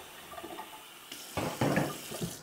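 Tap water runs into a sink as a clean cup is rinsed, a soft trickle that swells into louder bursts of splashing partway through, close by and with no voices.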